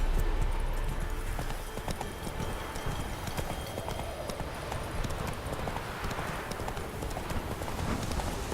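Roach the horse trots along in The Witcher 3 with a steady, rhythmic clip-clop of hooves, faint and set against a soft ambient game background.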